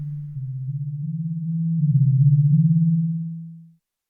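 A smooth, pure-toned synthesizer note made in FL Studio, pitched down an octave with effects off, swells in gently on a ramped attack, glides slightly between pitches and holds steady before fading out, alone and clean.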